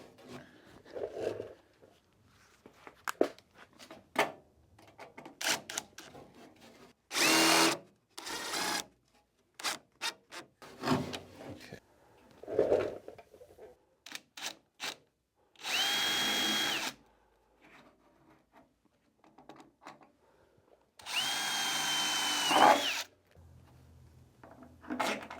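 A power drill drives stainless screws while power windows, locks and mirrors are fitted to a 1973 Ford Econoline, in several loud whirring bursts separated by quieter clicks, rattles and handling noises.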